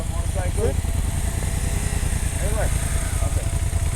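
Honda Africa Twin 1100cc motorcycle engine running steadily at low speed on a mountain ride in Manang, a continuous mid-loud rumble, with people talking over it.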